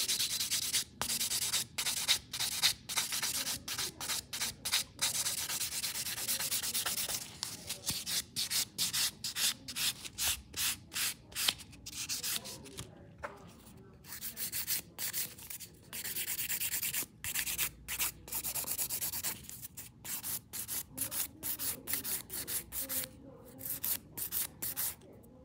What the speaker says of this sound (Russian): Поэтому сильно пилить не будем, но вот так вот номинально чуть-чуть пройтись надо.